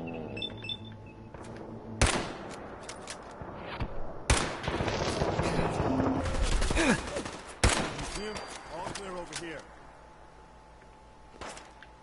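Several sharp, loud gunshots from a weapon in Fallout 4, set in Breakheart Banks, spaced a couple of seconds apart among quieter game ambience and scattered clatter.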